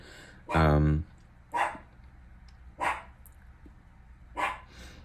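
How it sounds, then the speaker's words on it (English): A dog barks several times at a distance, short isolated barks with one longer, louder burst near the start, spaced over a quiet room background. "Let's see if my dog keeps barking."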